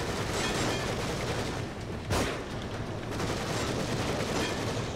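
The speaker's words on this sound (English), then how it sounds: "Who's shooting at me now?" Dense, rumbling gunfire and explosions from the video game The Evil Within, a continuous roaring barrage with one sharp blast near the middle, loud and close, no voices.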